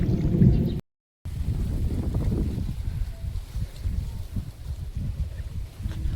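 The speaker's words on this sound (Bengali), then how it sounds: "আজকে কেউ একটা অনেক ঘন মেঘ জমেছে আর বিদ্যুৎও চমকাচ্ছে আর জলের হাওয়া দিচ্ছে।" Gusty wind rushes steadily over a village pond under heavy clouds before rain, buffeting the microphone with low rumbling bursts that continue throughout after a brief dropout near the start.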